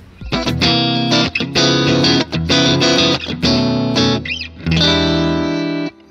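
Overdriven electric guitar through a Tweed cabinet playing loud, sustained chords and riffs in several bursts separated by short pauses, heavy and gritty, with no talking.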